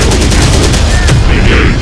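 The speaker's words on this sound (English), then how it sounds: "Enemy fire." Gunfire from the real-time strategy game Terminator Dark Fate Defiance: dense, continuous bursts of shots crackle without pause across the whole stretch, loud and busy, with no clear gaps between rounds.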